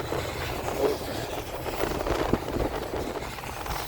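An eastbound loaded coal freight train on the original Transcon line rolls past nearby, a continuous heavy rumble of wheels and cars without any voices.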